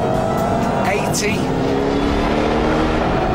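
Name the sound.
Ford Shelby GT500 supercharged engine accelerating through gears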